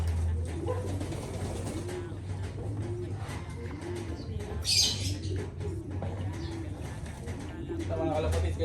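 Racing pigeons in a flooded area coo repeatedly in a steady rhythmic series, close by, over a low rumbling background with some faint chirps and a voice talking briefly.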